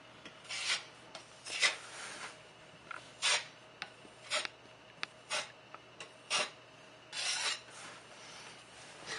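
A drywall knife spreads and scrapes joint compound over a repair patch in repeated rasping strokes, close and fairly loud, with short pauses between passes and no talking.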